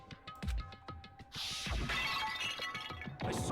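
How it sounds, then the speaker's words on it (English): A glass Monokuma bottle smashes over someone's head in the Danganronpa video game: a loud, bright shattering crash that breaks out after a series of dull thumps and rings on with scattering glass. "I grabbed the Monokuma bottle from the shelf and smashed it across her head."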